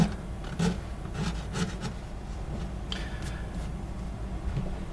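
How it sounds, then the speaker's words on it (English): A wooden mortise is cleaned up by hand, giving soft rasping and scraping strokes in a quick irregular series, close and fairly quiet with no talk. "Now just clean up my mortise a bit."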